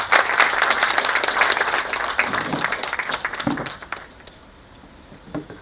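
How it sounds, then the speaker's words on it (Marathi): An audience at a Marathi book launch gives loud, sustained applause that gradually thins and fades into scattered claps. "जोरदार त्यांच्यासाठी टाळ्या वाजवा।"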